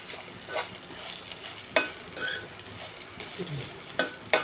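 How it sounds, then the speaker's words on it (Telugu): Sesame seeds roasting in a hot pan for a sesame chutney, giving soft crackling and sizzling with occasional stirring scrapes and light taps, close and moderately quiet, with no talk. "వేగుతున్నాయి కదండి నువ్వులు"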